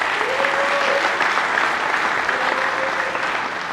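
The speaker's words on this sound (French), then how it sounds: "Je vous prie de les applaudir bien fort." Sustained audience applause at a political rally in Kisangani, dense steady clapping from a large crowd, loud and continuous with a faint voice briefly audible over it.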